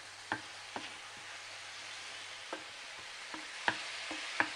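Egg and prawn roast cooking in a pan, a faint steady sizzle broken by scattered sharp clicks and taps of utensils on the pan.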